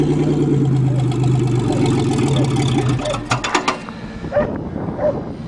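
A rough, loud car engine with no exhaust, running cold, runs close by with a raw mechanical clatter, then cuts out, leaving scattered metallic clanks and knocks.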